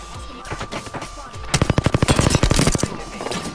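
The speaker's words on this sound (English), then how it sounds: "I'm getting shot at." Rapid automatic gunfire in Apex Legends, a loud close burst of evenly spaced shots starting after a quieter stretch of distant firing, then trailing off into scattered shots.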